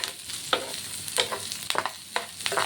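Chopped onion fries in a pan with a constant crackling sizzle, punctuated by repeated scraping stir strokes at irregular intervals, close-miked and free of speech.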